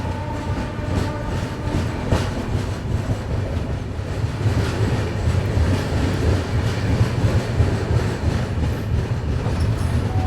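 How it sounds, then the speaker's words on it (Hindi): An AC double decker express train runs on rails after departing Tirupattur station, a loud continuous rumble with steady clickety-clack of wheels throughout. "तो फिलहाल अपनी ट्रेन डिपार्ट कर चुकी है तिरुपतुर रेलवे स्टेशन से"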